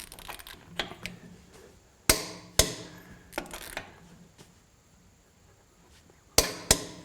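A $100 Amazon impact wrench torquing bolts, heard as several short, loud rattling bursts separated by pauses, with fainter mechanical clicks in between.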